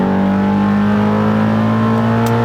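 A 1979 Chevy Malibu street car engine roars loud and close, holding a strong steady rev with a deep droning tone and no talk over it.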